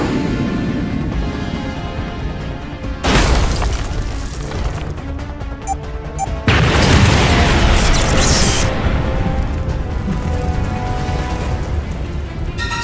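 Cartoon bomb blast in a Skibidi Toilet animation: two loud, broad booming bursts, one around three seconds in and a stronger one near six and a half seconds, each rolling on into sustained rumble over a busy, noisy background.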